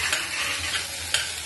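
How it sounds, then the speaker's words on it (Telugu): Ginger garlic paste frying in a pan, a dense continuous sizzle with a couple of stirring scrapes, close and steady with no voices. "ఫుల్ స్పూన్ అల్లం వెల్లుల్లి పేస్ట్ అండి. ఇది కూడా వాసన పోయేదాకా కచ్చాపక్కగా వాసన పోయేదాకా వేయించుకోవాలి."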